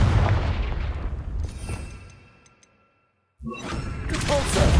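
Confringo fire spell blasts in the Hogwarts Legacy video game: a loud burst with rumbling that decays into near silence, then a second sharp blast and roaring fiery noise.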